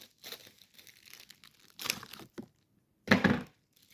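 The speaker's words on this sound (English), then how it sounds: "Y'all wanna hear me cut it through?" Plastic pancake packaging being cut open, giving a few short crinkling, crunching bursts separated by pauses, the loudest and closest near the end, with no talking.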